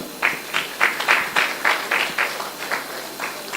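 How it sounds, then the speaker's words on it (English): A crowd claps steadily in soft, regular surges, a sustained round of applause with no voices over it. "Please keep clapping till they get here."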